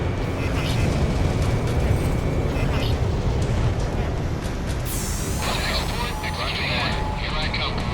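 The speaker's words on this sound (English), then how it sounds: "Enemy facility was destroyed." An enemy facility explodes in Ace Combat 6: Fires of Liberation as a dense, roaring blast rumbles continuously beneath jet engine noise, followed by a rising whine and radio-style chatter.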